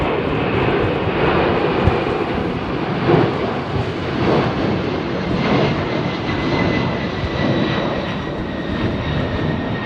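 Middle East Airlines Airbus A330 taking off from Heathrow runway 27R, heard close up as a loud, steady jet engine roar with rumbling low end and faint high whine, sustained throughout with slight swells, no talking.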